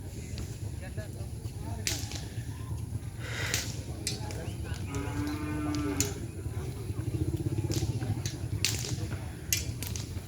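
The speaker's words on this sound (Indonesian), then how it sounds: "Ini ada sapi kecil juga" Cattle moo loudly nearby at a Madura bull race, with a long low bellow in the middle amid crowd noise, sharp cracks like whips, and people talking throughout.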